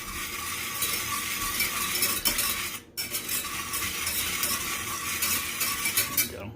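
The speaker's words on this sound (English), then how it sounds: "turn the heat on here to about medium, and then immediately just take a whisk" A whisk working sugar in a pot over medium heat, giving a continuous brisk metallic scraping with a rapid rhythm, close and loud, with a brief pause partway through and no voices.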